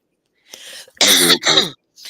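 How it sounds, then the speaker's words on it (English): A brief throat clearing followed by two harsh, close coughs in quick succession, then a faint start of another. "I'm going to cough a while."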